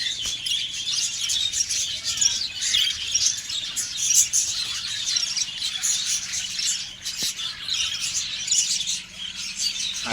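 Pet budgerigars chirp and twitter continuously in a busy, overlapping chorus with occasional squawks, close and fairly loud, with no talking.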